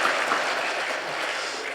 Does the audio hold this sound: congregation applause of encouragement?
yes